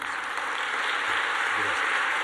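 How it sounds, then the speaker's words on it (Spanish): Audience applauding a doctor at a talk, a steady wash of clapping that holds at an even level from start to finish with no voices over it. "Fuerte aplauso al doctor."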